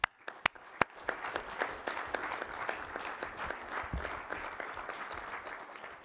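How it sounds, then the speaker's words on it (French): Municipal council members in a meeting hall applauding after a vote, a few sharp separate claps at first that grow into steady, moderately quiet group applause filling the room. "On peut applaudir."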